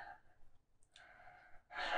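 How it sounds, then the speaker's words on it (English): A dog snores softly indoors, giving a few quiet, airy breaths with short pauses between them and a slightly louder exhale at the end. "Okay, that is my dog snoring."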